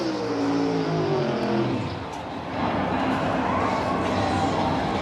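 NASCAR Cup Series race cars at speed on an oval during the Worth 400, a loud, continuous engine roar that dips briefly and then swells again. A crowd is faintly audible and a commentator talks over it.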